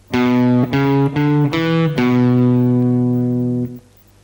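Electric guitar picks a quick run of notes, the opening of a solo, then holds a final note that rings and fades; loud and close, with no voices.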